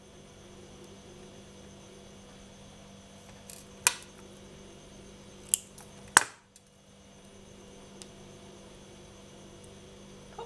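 Scissors trim extra cord while a polymer clay necklace is finished, giving a few sharp, isolated snips over a quiet, humming room. There is a small click, then two louder snips close together, with long pauses between them.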